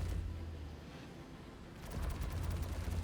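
Sustained gunfire from the many gunners aboard a Hammerhead ship in the Star Citizen video game, a faint distant rattle and rumble that swells into rapid, repeated bursts toward the end.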